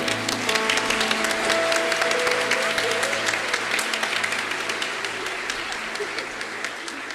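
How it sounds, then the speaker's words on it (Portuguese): A church congregation gives steady, dense applause to welcome children at a Saturday service, with sustained voices or instrument tones under the clapping at first and clapping continuing throughout. "nós temos também o 13º sábado com as nossas crianças que são recebidas agora com a salva de palmas da igreja"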